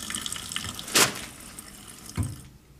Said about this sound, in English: turn off water at the sink with the paper towel